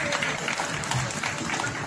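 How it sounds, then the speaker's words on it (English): A conference audience applauds, a steady dense wash of clapping from a crowd with a voice speaking over it. "Please, big round of applause."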